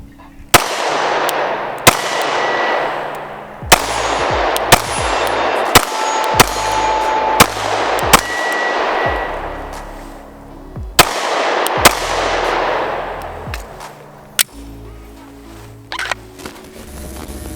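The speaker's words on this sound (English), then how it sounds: "I shoot this thing way better" Glock 43X pistol shots at a shooting range, about a dozen sharp, loud cracks fired in uneven bursts with short pauses, each shot trailed by a fading echo.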